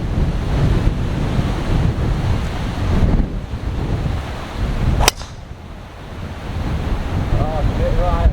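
Strong wind on an open golf course roars and buffets against the microphone for the whole stretch, loud and rumbling, with a single sharp crack partway through and no clear talking.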